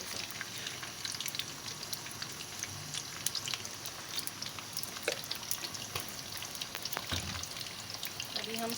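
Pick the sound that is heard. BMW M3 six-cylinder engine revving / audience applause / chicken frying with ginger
chicken frying with ginger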